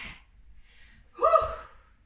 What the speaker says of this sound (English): Breathing, deep breaths. Inhaling and exhaling.